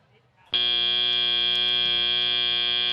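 A loud, harsh electronic buzzer ends a robotics competition match, cutting in abruptly after half a second of quiet arena murmur and then holding as one steady, rasping tone until the end.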